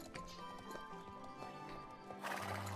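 A horse in the Star Stable video game clip-clops in a steady rhythm of hoofbeats and lets out a whinny. A louder rumbling rush comes in near the end.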